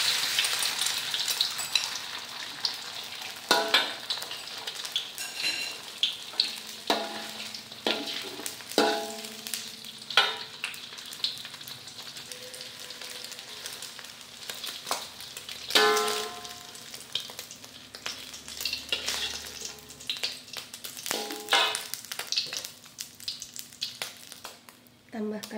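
Egg sizzling in hot oil in a wok for spicy fried rice, a continuous crackling fry with repeated scraping and clanking of a spatula as it is stirred, close and fairly loud.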